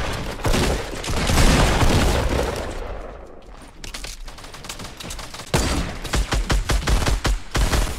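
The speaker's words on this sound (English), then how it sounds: "Oh, we're getting shot." Rapid bursts of gunfire in the video game Fortnite, loud and close, with a steady stream of shots and a cluster of sharp repeated reports near the end.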